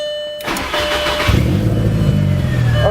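A car engine fires up via a newly installed push-button start: a quiet hum, a sudden starter crank at about half a second, then the engine catching and settling into a loud, rough, close idle.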